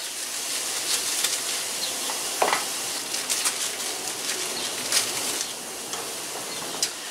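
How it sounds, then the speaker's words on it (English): Vegetables added to a pan of turkey hash set off a steady, fairly soft frying sizzle with small crackles and scattered spatters and clinks, continuous and without speech. "And now I'm gonna put in the other veg."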